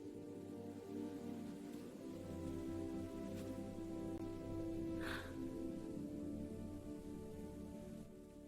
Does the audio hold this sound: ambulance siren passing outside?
no